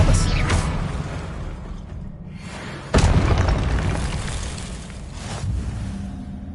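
Expelliarmus and other spells cast in the video game Hogwarts Legacy land as booming bursts, with a strong impact near the middle and fainter whooshes before and after.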